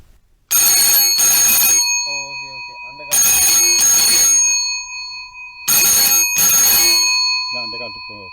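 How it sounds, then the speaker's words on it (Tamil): An old-fashioned bell telephone rings as a sound effect, loud and near, in three evenly spaced double bursts of metallic jangling, each pair followed by a brief gap. "அந்த காலத்தில் வந்து ஃபோன் ரிங்கி இப்படி தான் கொடுத்தாங்க."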